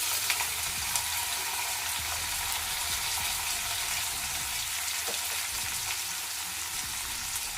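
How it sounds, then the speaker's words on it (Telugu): Finely chopped onions and a teaspoon of cumin seeds fry in hot oil, giving a steady, even sizzle with faint crackles and light stirring. It is close and moderate in level, with no talk. "ఆయిల్ వేడైంది. 1 టీ స్పూన్ జీలకర్ర, ఇలా సన్నగా తరిగి పెట్టుకున్న ఉల్లిపాయ ముక్కలు"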